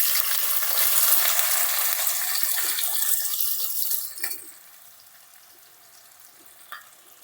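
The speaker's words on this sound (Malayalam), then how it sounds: "നമുക്ക് എണ്ണ ചൂടായിട്ട് അതിലേക്ക് ഇട്ട് കൊടുക്കാം" Crushed shallots hit hot oil with a loud, steady broadband sizzle, close and unbroken for about four seconds, then the frying fades to a quiet hiss with a couple of faint clicks near the end.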